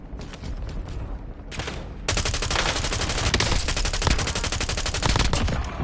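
Automatic weapons fire in Call of Duty: Warzone, a few scattered shots giving way to a long, loud sustained burst of rapid machine-gun rounds that continues to the end.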